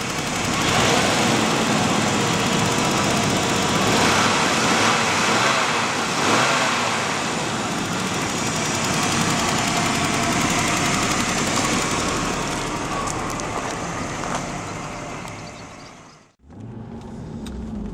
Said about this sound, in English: Okay, so she's running. It's a little bit lumpy, but be expected.